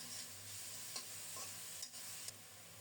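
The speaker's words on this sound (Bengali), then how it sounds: "পেঁয়াজটাকে কিছুক্ষণ ভেজে নিচ্ছি।" Grated onion with salt fries quietly in oil in a pan, a soft continuous sizzle broken by a few faint stirring scrapes.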